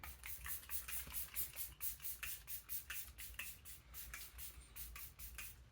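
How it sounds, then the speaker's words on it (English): A Rare Beauty makeup setting spray is pumped in a quick series of short, hissing mists, roughly a dozen rhythmic spritzes close to the microphone with brief gaps between them. "I'm actually gonna go in with the Rare Beauty setting spray"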